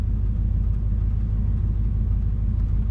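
A surplus Chevrolet Suburban engine idles steadily, a loud, continuous low rumble with no other sounds over it.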